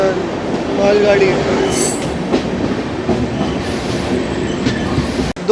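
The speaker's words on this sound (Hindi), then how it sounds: "WAG12 मालगाड़ी" A WAG12-hauled freight train rolls past near Gudur Junction with a continuous loud rumble of wagons and wheels, a faint squeal now and then, and a sharp knock near the end.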